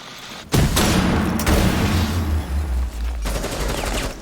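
Rapid pre-fire gunfire in a competitive video game esports match, dense loud bursts of automatic shots with heavy booming impacts, continuing almost without pause from start to finish.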